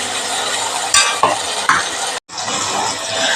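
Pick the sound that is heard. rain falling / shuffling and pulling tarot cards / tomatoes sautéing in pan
tomatoes sautéing in pan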